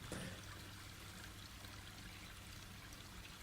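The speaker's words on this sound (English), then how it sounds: "I'm just gonna put the river stream noises in there" A faint, steady rush of flowing river water runs evenly throughout, quiet and continuous with no voices.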